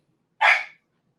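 A single short dog bark rings out close and clear, loud against an otherwise silent background, with no talking.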